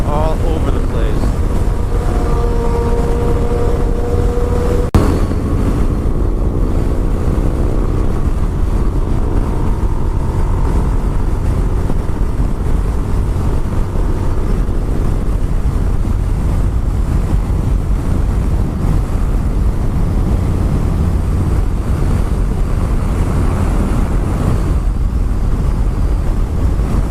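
Heavy wind buffets a microphone while motorcycles ride along a highway, a loud constant rushing roar with engine rumble beneath and voices talking over it.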